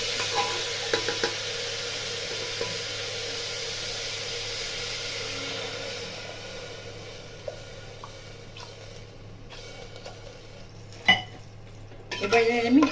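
Chicken frying in a pan for soup, a low steady sizzle with occasional soft stirring scrapes and a few sharper utensil clanks near the end, close by.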